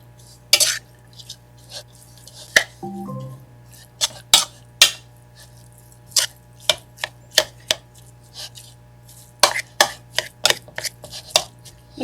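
Hamburger meat and about a cup of cheese being mixed together in a bowl, heard as scattered sharp clacks and scrapes of a utensil against the dish with brief pauses between strokes.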